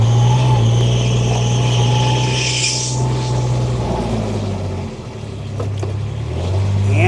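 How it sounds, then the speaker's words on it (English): A 2017 Kubota RTV-X900 side-by-side utility vehicle with 1095 hours, driven in low range, revs loudly and steadily close by, dips briefly, then picks up again with a whining drivetrain note. "We're going to start it, run it around, show you it does everything it's supposed to do."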